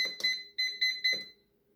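An air fryer's control panel gives a quick run of five short, high electronic beeps as its settings are keyed in, fairly faint and close by, with no talk.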